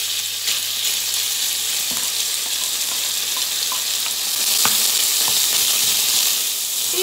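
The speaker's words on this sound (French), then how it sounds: "Je vais faire revenir mes morceaux de viande." Pieces of escalope meat browning in a hot pan, a steady loud sizzle and crackle of frying running the whole time with occasional small pops and utensil clicks, no voices.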